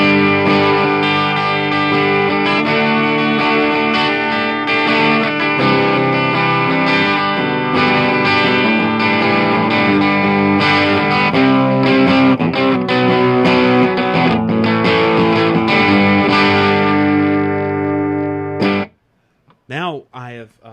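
An electric guitar played through the clean channel of an Orange Crush Pro CR120 amp, second gain stage, with volume up and no reverb: sustained chords and notes ring loud and steady for about nineteen seconds, then cut off abruptly into brief quiet noises.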